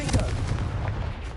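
In the Hogwarts Legacy video game, the Confringo spell lets off a short, loud, booming blast that rumbles out like artillery fire.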